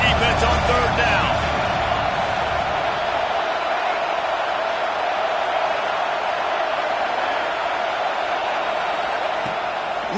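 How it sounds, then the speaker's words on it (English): A stadium crowd at a Clemson vs Georgia college football game roars steadily on a third-down defensive stand, forming a dense, unbroken wall of noise under a commentator's voice. "Decibels rising as the crowd gets behind this defense on third down"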